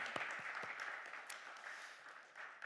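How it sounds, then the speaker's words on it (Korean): A church congregation at a Sunday worship service gives the worship team a round of applause, a faint, distant wash of clapping that holds steady throughout. "찬양 팀원들을 위해서 다시 한번 격려의 박수를 크게 해드리겠습니다"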